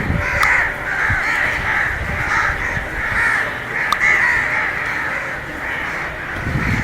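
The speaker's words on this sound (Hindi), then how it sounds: "पर हज़ारों कौवे आ गए यार।" A flock of crows gathers on a house rooftop in Karachi, cawing repeatedly in harsh overlapping calls, some near and sharp, over a steady background hum.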